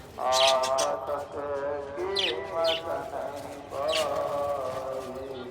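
Pigeons and small birds inside an aviary net chirp and call in clear, repeated bursts close by, their calls mixing with a voice talking.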